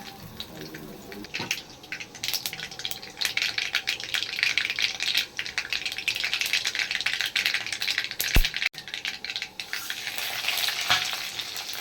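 Mustard seeds and urad dal sizzle and splutter in hot oil, a steady close crackle broken by sharp pops, with faint voices in the background.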